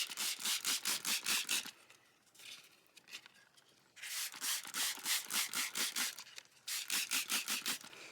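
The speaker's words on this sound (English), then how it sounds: "I'm going to move on to the 1000 grit sandpaper." Rapid rhythmic wet sanding of a car headlight with 1000 grit sandpaper, loud close scratchy back-and-forth strokes in three bursts separated by short quiet pauses.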